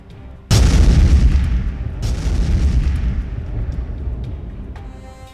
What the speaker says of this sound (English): AP2 means the walker explodes